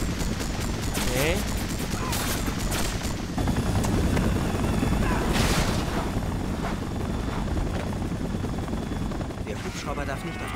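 Helicopter and gunfire in the video game Spider-Man 3, a steady rotor thrum under bursts of rapid shots, loud and continuous, with someone talking over it.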